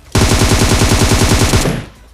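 Automatic gunfire in PUBG Mobile, a single loud sustained burst of rapid evenly spaced shots lasting about a second and a half, then a short fading tail.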